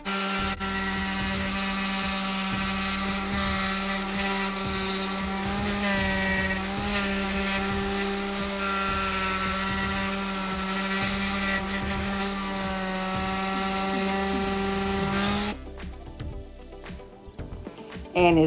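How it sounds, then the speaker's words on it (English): A power sander grinds the finish off the legs of an old Dixie dresser, a loud, steady, high-pitched whine that holds for about fifteen seconds before cutting off into scattered handling noises. "take my sander and I'm going to sand away the finish on the legs"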